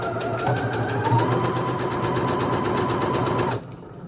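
A sewing machine runs steadily for about three and a half seconds, backstitching black fabric for a scrunchie with a fast, even mechanical chatter, close and loud, then stops abruptly.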